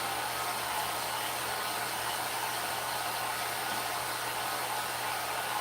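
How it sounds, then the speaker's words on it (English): A dog grooming dryer blows steadily during a grooming session, a constant broadband roaring hiss with a low motor hum underneath, unbroken and fairly close. "So if the dog doesn't like one dryer, I try with another dryer."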